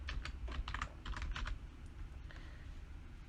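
Rapid keystrokes on a computer keyboard while working in AutoCAD Civil 3D, a quick burst of close clicking taps for about a second and a half, then quieter scattered key presses over a low background hum.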